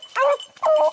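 Beagles bark during an Ohio rabbit hunt, two loud close barks with a short gap between them, no talk over them.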